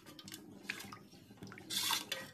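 A spoon stirs flour batter in a pot on the stove over a low flame, with soft scrapes and light clinks. It is quiet and intermittent, with a brighter scraping burst near the end.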